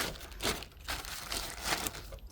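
Soft, close crinkling of a plastic bag used to cover a hydrangea cutting, rustling in a few uneven bursts.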